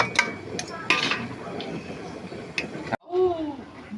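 Pots and utensils clatter while food is moved into a pressure cooker, with irregular clinks and knocks over a busy background, and a voice briefly speaking at the end.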